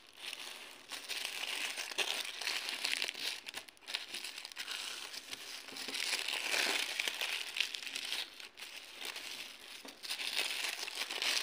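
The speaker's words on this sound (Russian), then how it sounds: "Мы берем бумагу и складываем ее гармошкой." Paper being folded accordion-style to make gift filler: continuous crinkling and crumpling close to the microphone, rising and falling in bursts, with no speech.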